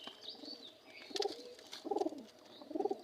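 Pigeons coo in three clear bursts, close and fairly loud, spaced about a second apart over a faint background of twittering and chirps.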